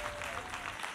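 A church congregation clapping their hands in honor of a pastor's wife during a Sunday service, a fairly faint, even wash of applause with no talking over it.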